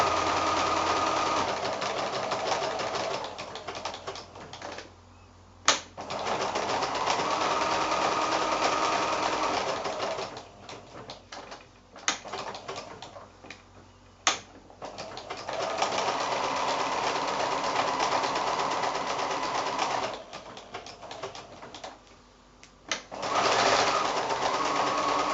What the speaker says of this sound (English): we're just going to do a little bit of quilting after the applique itself is done